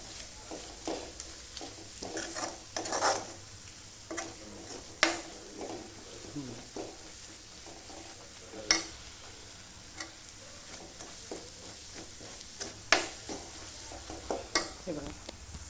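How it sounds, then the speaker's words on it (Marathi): Spice masala frying in oil for a chickpea curry, a low continuous sizzle broken by repeated scraping and clinking of a spoon stirring against the pan, close up. "छानपैकी फ्राय झाला आपला मसाला हा।"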